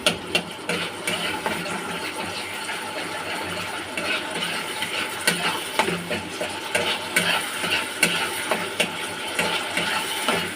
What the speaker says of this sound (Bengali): দিয়ে মশলাটা যতক্ষণ না তেল ছাড়ে ততক্ষণ মশলাটা আমি কষতে থাকবো।